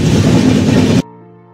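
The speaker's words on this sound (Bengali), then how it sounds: "ট্রেন বক্সা টাইগার রিজার্ভকে ডান পাশে রেখে বাদিকে কালচিনি হ্যামিল্টনগঞ্জের উদ্দেশ্যে ঝিকঝিক করে ছুটে চলল" The Sikkim Mahananda Express rumbles loudly along the tracks past Rajabhatkhawa station with a dense, rushing clatter for about a second, then cuts off abruptly into soft, quiet tones.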